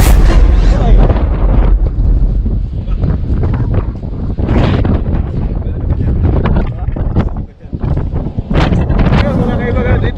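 Strong sandstorm wind in Dammam roars and buffets the microphone with loud, continuous gusts, briefly dipping before surging again, with a voice speaking under the noise.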